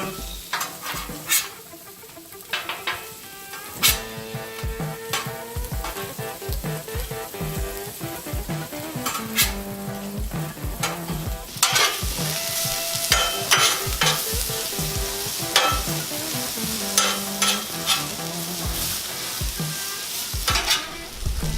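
Potatoes fry on a 36-inch Blackstone griddle with a constant crackling sizzle, while a metal spatula scrapes and clacks against the flat top over and over as they are stirred and turned.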